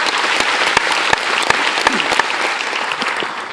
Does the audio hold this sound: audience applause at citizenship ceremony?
yes